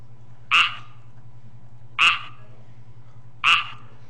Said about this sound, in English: we've got the frog sounds.